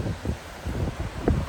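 Gusty wind on an exposed coastal headland buffeting the microphone, producing low rumbling thumps and rustling bursts, with no voices.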